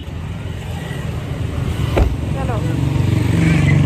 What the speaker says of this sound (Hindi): सुबह सुबह भी कितना ट्रैफिक हो गया